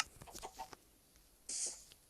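Soft clucks and scratchy noises from Minecraft chickens, then one brief, sharp chicken squawk stands out near the end, all fairly quiet.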